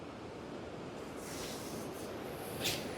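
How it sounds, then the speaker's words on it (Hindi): The Tirthan river flows in the valley below, giving a steady, even rushing wash that stays at the same distant level throughout, with no voices. "और नीचे तीर्थन नदी बह रही है"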